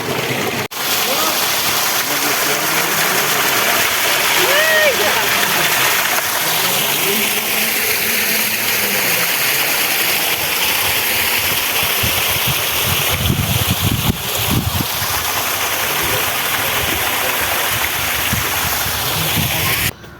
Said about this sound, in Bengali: এখন আমরা যে ঝর্ণাটা দেখাবো আপনাদের এই যে